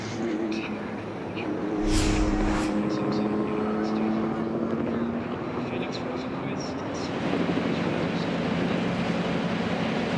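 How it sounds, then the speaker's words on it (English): Some 25 IndyCar race car engines idle and rev together before the start of the Children's of Alabama Indy Grand Prix, a sustained droning rumble with rising tones, heard under a commentator's talk. "behind him 25 engines fired up and ready to roll"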